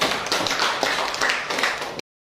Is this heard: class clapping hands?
yes